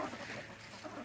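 Chickens cluck softly inside a small backyard coop, a short burst of close, overlapping murmuring calls with no talk.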